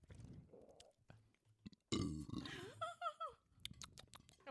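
One long, loud, guttural burp erupts in the middle of a podcast recording, with chewing-like mouth noises and other vocal sounds close to the microphone before and after it.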